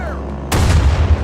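Enemy gunfire and artillery suddenly erupt in a Rising Storm battle, a sharp loud blast followed by rumbling, continuous fire close at hand.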